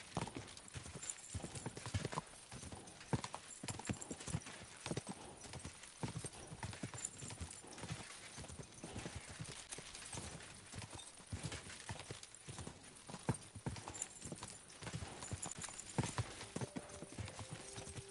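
Hooves clip-clop continuously on hard ground amid busy background noise, with a horse briefly whinnying, fairly faint overall.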